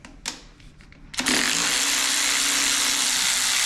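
A Hyper Tough cordless ratchet tries to break loose a bolt cinched tight by a Milwaukee, first a few scattered clicks and taps, then a sudden steady, buzzing motor whir that holds loudly and close for a few seconds.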